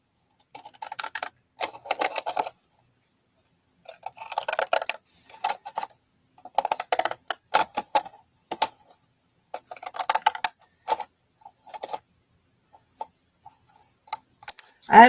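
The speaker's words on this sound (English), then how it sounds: "we're going to use our pretty scissors and cut it off" Decorative craft scissors snip through material in quick bursts of sharp, close clicks, separated by short pauses, with no talk.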